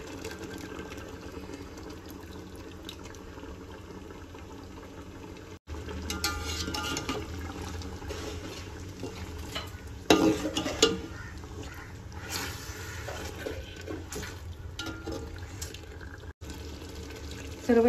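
Cashew paste being stirred into white chicken dum biryani in a pot, a steady scraping and sloshing of a spoon through the thick mixture that runs throughout, with a few louder clanks near the middle.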